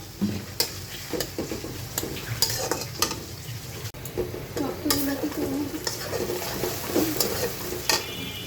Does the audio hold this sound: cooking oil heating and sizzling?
yes